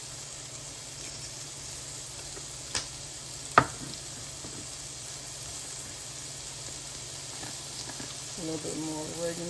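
Mushrooms and garlic frying in a lightly greased non-stick pan, a steady soft sizzle and hiss throughout with one or two faint utensil taps, fairly quiet and close.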